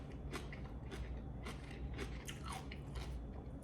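Raw fermented food is bitten and chewed close up, giving a steady run of crisp crunches over several seconds with no talk.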